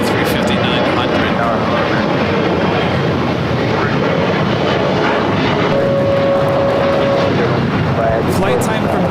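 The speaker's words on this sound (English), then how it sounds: "Up next, SAS. Coming in from Copenhagen, A350-900." An SAS Airbus A350-900 arriving from Copenhagen at LAX, a loud continuous jet engine roar that fills the whole stretch, with airport rumble and a voice talking underneath.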